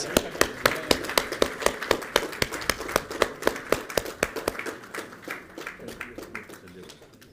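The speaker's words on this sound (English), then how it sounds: "please give a round of applause" An audience claps in a rhythmic round of applause at a business expo launch event, strong regular claps that gradually soften and fade toward the end, with voices speaking over them.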